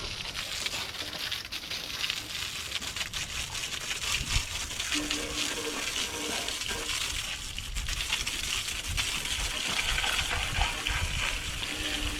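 Cold water gushing steadily from a tap in an equipment shop, a loud continuous splashing rush with no voices.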